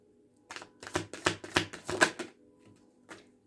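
Tarot cards shuffled and drawn during a reading, a quick run of crisp riffling flicks and slaps clustered over a couple of seconds, fairly close and alone, followed by a couple of softer isolated card snaps.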